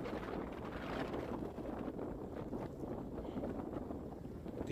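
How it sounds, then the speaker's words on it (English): Strong wind buffets the microphone outdoors, a steady, loud broadband roar that holds for the whole stretch with no talk over it. "And the wind was crazy this day too."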